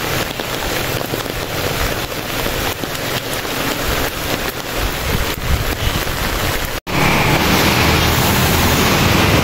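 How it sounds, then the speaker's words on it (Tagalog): Heavy rain pours down steadily on a surface outdoors at a school gate, a dense, loud roar with wind buffeting the microphone, broken by a brief dropout near the end before resuming. "Biglang bumuhos ang malakas na ulan."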